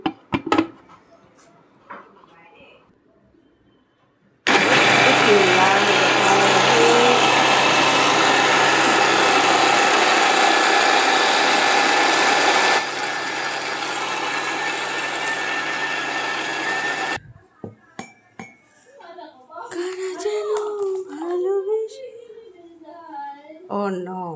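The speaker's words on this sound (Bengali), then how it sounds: "এখন আমরা ব্লেন্ড করে নিব।" A kitchen blender roars loudly and continuously for about twelve seconds as it blends dosa batter of lentils, onion, green chili, coriander, salt and ginger-garlic paste, its pitch dropping partway through, then cuts off before someone talks.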